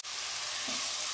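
Masala sautéing in a pot with oil, a loud, continuous close sizzle and hiss that stays even throughout, with a slight scraping stir partway through and no talk.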